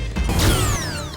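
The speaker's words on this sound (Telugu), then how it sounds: "లేదక్క, మన ఫ్యాన్ నుండే సౌండ్ వస్తుంది." A ceiling fan gives off a brief mechanical creaking and ratcheting, with a faint whine from its moving parts, close and alone.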